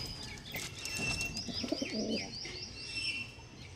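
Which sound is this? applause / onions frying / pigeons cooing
pigeons cooing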